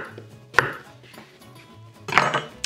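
Potatoes being chopped with a knife on a cutting board for buttermilk mashed potatoes: two sharp, close knife strikes about a second and a half apart, with softer handling noises between them and no talking.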